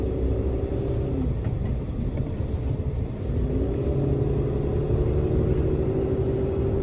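Inside the cab of a 5-ton truck pulling into a street, a steady loud engine rumble and road drone fills the cabin with slight rises in pitch as it accelerates, no voices.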